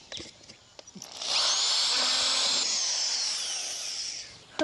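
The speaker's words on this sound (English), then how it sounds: "What we're going to do next is we're going to take this smaller drill bit" A power drill bores a hole through a wooden nest box with a small bit, a loud steady high whine that holds for about three seconds after a few faint knocks, with no talking.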